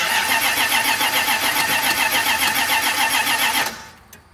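A 1990 Dodge truck engine cranks and catches with gas applied, a rapid rhythmic pulsing churn, loud and close, running steadily for several seconds before abruptly dying away into quiet.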